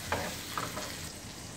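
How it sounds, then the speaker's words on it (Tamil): Ingredients for mee goreng, including prawns and fish cake, frying in hot oil, a steady close sizzle with a couple of brief stirring scrapes and no voices. "இதை நல்லா பொரிச்சு எடுத்துக்கிறோம்."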